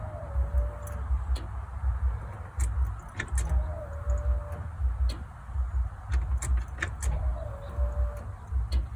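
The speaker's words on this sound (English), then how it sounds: "Y'all hear the fuel pump going?" Faint electric whine of a 1992 Ford F-150 fuel pump priming, recurring in short rising bursts over a low idle-like rumble with scattered clicks and ticks around it.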